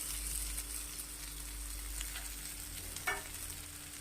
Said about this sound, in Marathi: मीडियम साईजचे तीन ते चार बटाटे मी उकडून साल काढून फोडी करून घेतलेले आहेत हे यामध्ये टाकून घ्यायचं